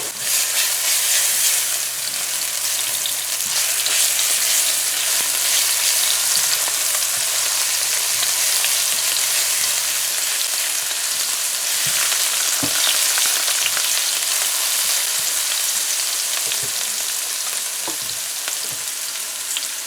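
Pounded garlic and pepper frying in a pan for five spice fried rice, a loud, steady, dense sizzle holding evenly throughout with occasional small pops and crackles.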